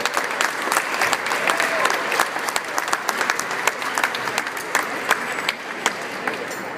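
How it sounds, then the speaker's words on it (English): A room full of people applauding the staff at a Science On A Sphere exhibit opening, steady dense clapping that carries on throughout and eases slightly near the end. "Give them a round of applause for all of their work."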